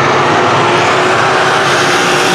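Street stock race cars roar together at full throttle as the green flag drops for a heat race, a dense, loud engine wash close by with no pause.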